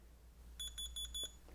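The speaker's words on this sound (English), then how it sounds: "It beeps, which means the key lock feature is now off." Four quick electronic double beeps from a Groclock as its key lock turns off, in a regular rhythm, high-pitched and clear over a low hum, followed by a faint click.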